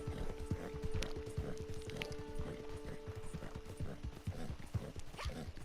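Horse hooves clip-clop at a steady trot while riding toward Fort Mercer in Red Dead Online. The hoofbeats are close and regular, with a faint whinny and soft ambient tones behind them.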